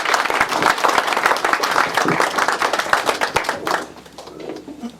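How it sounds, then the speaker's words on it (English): Loud audience applause fills a fundraiser room as Anu Natarajan is welcomed to the stage, dense steady clapping that thins and fades toward the end. "everyone give her a big round of applause for Anu Natarajan"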